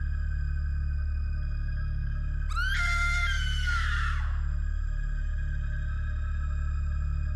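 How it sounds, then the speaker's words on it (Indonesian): A woman's sudden scream in an Indonesian horror story, a single loud, shrill cry lasting under two seconds that rises sharply, then trails off over a steady low background hum. "suara teriakan Narti sambil berdiri di depan pintu kamar mengejutkan mereka semua"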